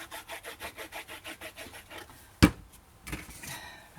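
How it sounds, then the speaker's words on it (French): Scissors cut through scrapbooking paper in a quick run of about ten even, rhythmic snips, followed by a sharp close clack and a couple of softer paper rustles. "On va couper au ciseau le reste."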